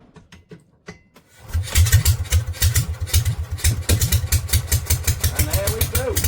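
An old generator engine, running on two cylinders, cranks with a few quick pulls, catches and settles into a loud, close, steady chugging idle with rhythmic pulses, and someone talks briefly over it.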